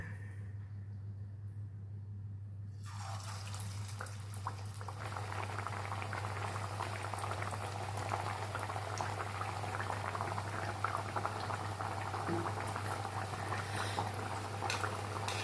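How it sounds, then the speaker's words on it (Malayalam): Flattened pieces of dough drop into hot coconut oil in a deep pan. After a few quiet seconds a vigorous, steady sizzle and bubbling starts and keeps going, close and fairly faint. "ഇനിയിപ്പോൾ ഇത് ചൂടായ വെളിച്ചെണ്ണയിലേക്ക് ഇട്ട് കൊടുക്കാം"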